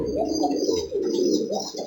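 Pigeons coo steadily and close in a breeding loft, a continuous low burbling murmur of several birds with no talk over it.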